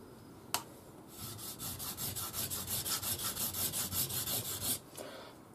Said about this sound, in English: so I'm going to sharpen on that side because my pull stroke stronger than my push stroke.